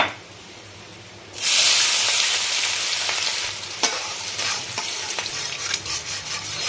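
Onions frying in a pan for a soya chunk Mughlai curry, a steady loud sizzle that jumps up sharply after a quiet start, with occasional stirring scrapes.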